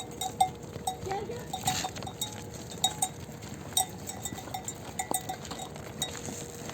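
A mixed herd of sheep and goats outdoors, with scattered faint bleats and tinkling bells ringing irregularly at a distance over steady ambient noise.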